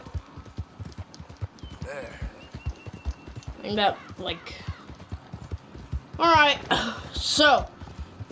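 Horse hooves clip-clop in a steady, close rhythm in Red Dead Redemption 2 as the horse walks, while someone talks over them and whinny-like voice sounds rise at intervals.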